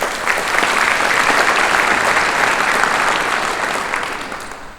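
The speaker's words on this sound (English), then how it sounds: "Let's give them a round of applause." A hall of fame induction ceremony audience breaks into sustained, dense applause, loud and steady for several seconds before tapering off slightly at the end.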